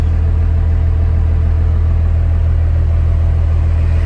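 A second-generation Dodge Ram with a 12-valve Cummins diesel engine runs with a loud, steady, deep rumble close by, holding an even drone throughout with no voices.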